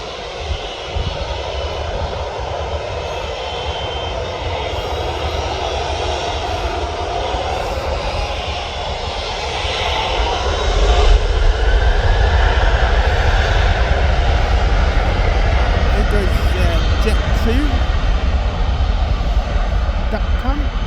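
A jet airliner on the Belfast flight at Birmingham Airport roars steadily throughout, growing louder about halfway through as it nears, with a broad continuous rumble and no clear speech.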